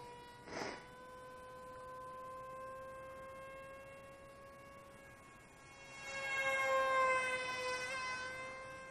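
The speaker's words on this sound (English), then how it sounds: "Oh, yeah, hear that desyncing?" Faint, distant whine of a foam F22 Mini V2 RC jet in flight, its Racerstar 2207 2500 kV brushless motor on a Hornet 20 amp speed controller and 3-cell battery desyncing, the steady tone wavering and swelling louder near the end.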